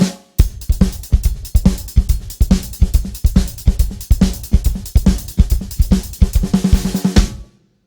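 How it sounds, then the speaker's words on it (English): Drum kit plays a steady, driving repeated samba pattern of punchy bass drum hits for several seconds, loud and close, then stops abruptly. "just a repeated pattern in the bass drum"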